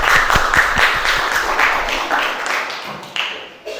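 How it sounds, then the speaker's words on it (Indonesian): An audience at a group performance assessment applauds a group of presenters with steady, dense clapping that continues throughout, fairly close and loud, and tails off near the end. "Kita beri aplaus yang baik untuk kelompok 1."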